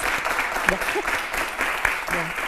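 A studio audience applauds in a steady, dense wash of clapping, fairly loud and close, with a voice briefly audible through it.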